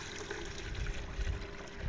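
Water pours from a small jug into a two-litre watering can, a quiet, trickling gurgle that swells and eases over a couple of seconds, close by, with no talking.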